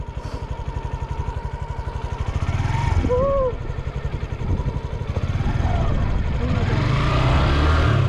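A motorcycle engine idles with a steady low pulse, then revs up hard as a rider learning to ride opens the throttle too far, staying loud and close throughout while people talk over it.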